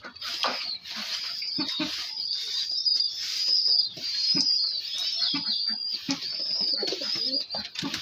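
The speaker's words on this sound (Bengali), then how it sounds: "এখনো বড় বড় কবুতর আছে।" Large pet pigeons kept indoors with other birds coo in low, repeated murmurs, layered with higher chirps and occasional rustling, at a moderate distance and steady level throughout.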